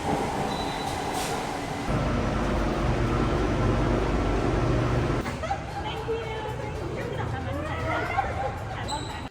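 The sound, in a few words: subway metro train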